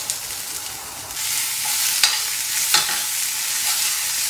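Baby corn sautés in a hot pan, a steady close sizzle and crackle of frying with a couple of sharp scraping stirs of a utensil against the pan.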